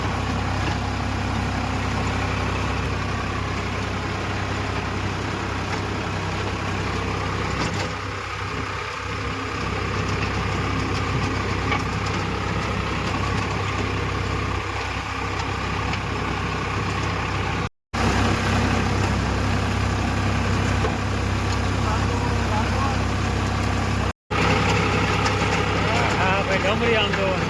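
Tractor engine running steadily with a rotavator in a wheat field, a continuous low drone throughout, close and loud, with two brief dropouts.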